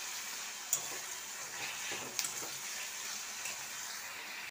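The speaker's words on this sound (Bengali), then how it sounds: "নুন দিয়ে আমি নেড়ে নিলাম পেঁয়াজটাকে।" Sliced onions with salt are stirred in a frying pan, giving a faint, steady sizzle with a few sharp scrapes of the spoon against the pan, no talking.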